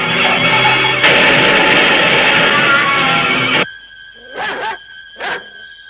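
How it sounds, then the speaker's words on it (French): Loud, chaotic dog barking and yipping that stops abruptly, followed by two softer whimpering yelps in a quiet room. "fais sortir le chien de la cuisine à fond la caisse"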